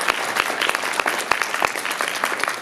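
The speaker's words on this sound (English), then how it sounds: "Let's give Robin and Larry another round of applause" A round of applause for the filmmaker Robin and Larry at a film screening reception, a smaller crowd clapping steadily with distinct individual claps standing out, moderately loud and continuous.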